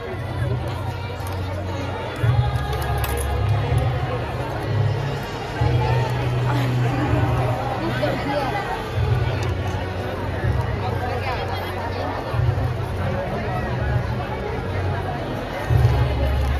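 A crowded canteen at the Nirankari Sant Samagam in Pune, with a continuous babble of many voices and general bustle close by, and someone speaking over it.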